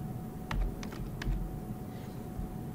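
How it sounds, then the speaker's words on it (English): A few quick keystrokes tapped on a computer keyboard while designing a print in Tinkercad, short clicks in a brief burst over a low background hum. "I'm gonna type the number."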